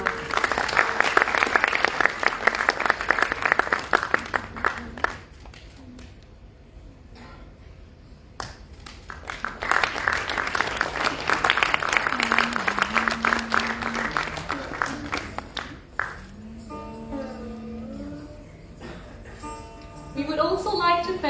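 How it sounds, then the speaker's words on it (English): Audience applause at a Bharatanatyam arangetram dance recital, rising in two sustained bursts separated by a quieter gap, with melodic tones entering as the second burst fades. "A round of applause, everyone."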